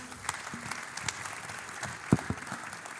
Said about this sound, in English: How about a round of applause for Rich and Zach?